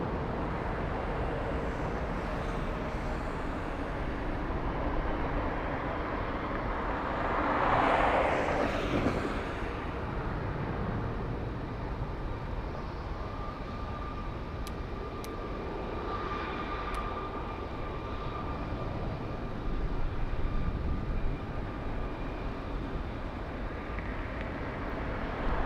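An airliner on runway 24 left at LAX, departing for Honolulu, gives a steady, loud broadband engine roar that swells briefly and holds throughout, with no voices.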